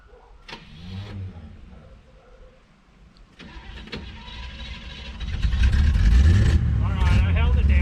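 A 1971 GMC 1500 truck engine cranks and fires for the first time in 28 years, first intermittent clunks and a brief whir, then the motor catches and roars into a loud, rough idle with revs, with a voice speaking briefly.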